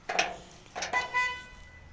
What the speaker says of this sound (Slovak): čo trúbiš?